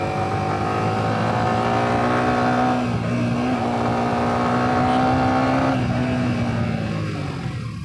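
Motorbikes on a road during a rainy ride, with engines held at high revs in a loud, sustained, close whine that wavers slightly in pitch as they accelerate.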